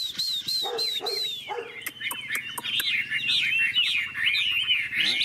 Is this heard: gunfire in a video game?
no